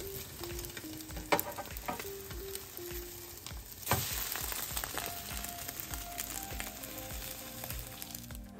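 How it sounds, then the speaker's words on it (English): Slices of apple cinnamon French toast fry in a pan with a continuous close sizzle, broken by a couple of soft knocks and scrapes from handling, and no one talking. "Lay that baby right in the pan and let it cook until it turns into a nice golden brown."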